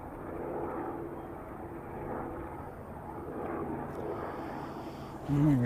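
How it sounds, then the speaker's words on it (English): Robinson helicopter flying near Christchurch Airport in intense fog, a faint distant rotor and engine drone that holds steady throughout, ending in a brief louder, tonal sound. "can hear a chopper."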